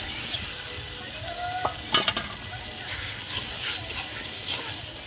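Potatoes fry in spiced oil in a pot for egg biryani, a steady sizzle broken by a few clattering stirs of a spoon, close and alone.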